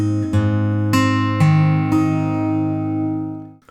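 Acoustic guitar plays the opening intro phrase of a song alone: several plucked notes and slides over ringing open strings, ending in a fading sustained chord.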